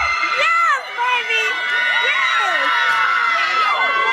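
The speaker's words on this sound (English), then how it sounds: "the reaction outside of the courtroom involved a crowd going absolute crazy in celebration" A crowd of supporters outside a courtroom erupts in loud, sustained cheering, whoops and shrill shouts of celebration, with overlapping voices rising and falling close by throughout.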